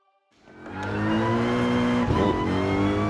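A race car in Gran Turismo Sport on the Nürburgring revs up from silence into a loud, sustained engine drone with rising harmonics, a brief tire-squeal scrub partway through, no voices.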